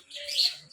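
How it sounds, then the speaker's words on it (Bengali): A Victoria crowned pigeon at the Darjeeling zoo gives a single short, faint call lasting under a second, alone against a quiet background. "crown pigeon Payra"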